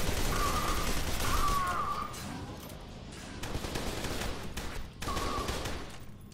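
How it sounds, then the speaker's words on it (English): Sustained gunfire from several shooters in F.E.A.R. 2: Project Origin, a dense, continuous fusillade of shots with a brief lull before another burst; fairly loud and unaccompanied by talk. "Hey, who's shooting at me? Several people, actually."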